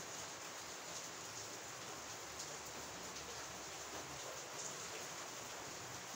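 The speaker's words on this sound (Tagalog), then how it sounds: "Ingay ulan, maingay. Tuloy-tuloy." Steady, continuous rain hiss, broadband and unbroken, with no voices and no pauses throughout.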